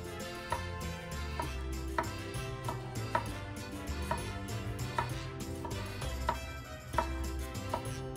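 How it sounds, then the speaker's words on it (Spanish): A knife cuts the stems off chili peppers on a board, giving a series of sharp, fairly regular taps against a steady tonal background. "Iniciaremos retirándole el pedúnculo a todos nuestros chiles."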